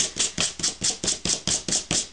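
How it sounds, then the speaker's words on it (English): A worn sanding block rubs the edges of a paper flower in quick, even scratchy rasps, about ten times in a steady back-and-forth rhythm, close and dry, with no voices. "to distress it even more, I'm going to use my sanding block"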